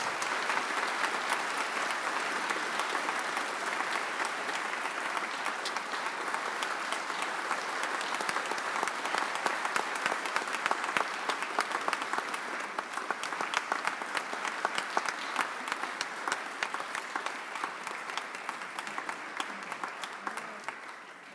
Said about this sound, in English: Let's give Nate a big round of applause.